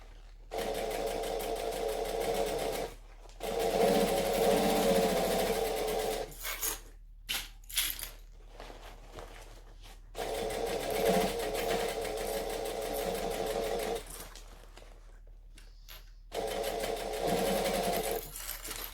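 Domestic sewing machine stitching a padded handbag, running in several loud bursts of steady whirring with short pauses between runs, no voices.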